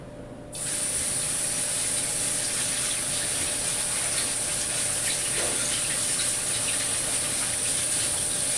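Chickpeas rinsed under a running kitchen tap, water switching on after a brief quiet and then spraying steadily in a constant, close hiss with occasional splashes.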